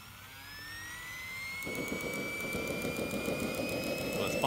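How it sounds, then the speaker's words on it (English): A model turbine jet engine fuelled by kerosene spools up at a model aircraft event, its rising whine joined partway through by a rapid clicking of the igniter. The sound builds steadily and stays close. "there's an igniter that you can hear that's clicking, and then as soon as it catches, the blades will start to turn"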